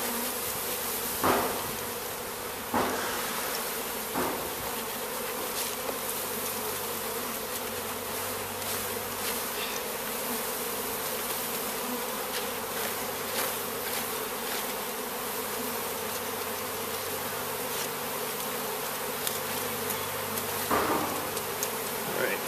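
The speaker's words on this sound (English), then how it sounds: "You shake the bees into their hive." A dense, steady drone of many honeybees buzzing nearby as they are shaken into their hive, with occasional soft knocks and thumps of hive parts.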